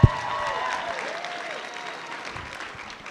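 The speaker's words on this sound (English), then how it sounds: "Give them a round of applause." Audience applause at the Indiana Comic Convention 2025 cosplay contest, a sustained wash of clapping that starts with a sharp hit and stays steady, fading slightly toward the end.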